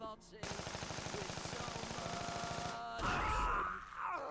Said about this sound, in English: No, chain gun is really strong.